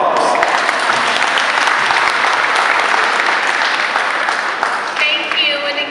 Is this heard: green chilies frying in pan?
no